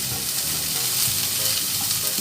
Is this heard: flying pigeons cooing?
no